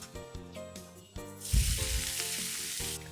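Mushrooms dropped into hot olive oil in a pan burst into a loud, steady sizzle, set over soft background music that carries on underneath.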